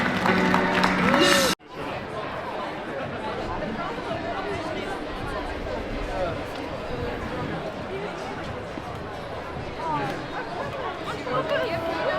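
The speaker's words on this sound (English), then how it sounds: "Another round of applause for Billy." Audience applause and cheering at Comic Con Africa, a dense, steady roar of clapping and crowd chatter that follows a brief louder burst and holds for the rest of the stretch.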